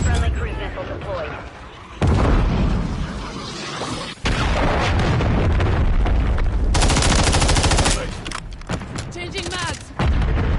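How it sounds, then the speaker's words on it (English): Call of Duty firefight with cruise missile strikes: bursts of automatic gunfire and heavy explosions hit in waves, loud and close, with brief gaps between volleys and chatter mixed in. "Friendly cruise missile deployed."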